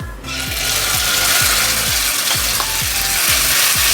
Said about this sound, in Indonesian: kalau misalnya minyaknya udah panas, kita cemplungin cabenya